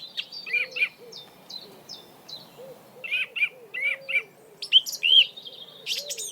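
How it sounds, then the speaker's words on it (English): Birdsong with repeated bright chirps and short whistled phrases from several birds, some calls near and others farther off, plus a soft low hooting tone underneath, over quiet outdoor ambience with no talking. "to listen to the bird song"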